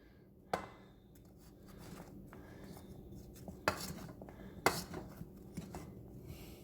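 Lemon cooler cookies moved from a bowl onto a baking pan in a kitchen, giving soft scattered clinks and scrapes with a few sharper knocks against the pan, fairly quiet and close, with no talking.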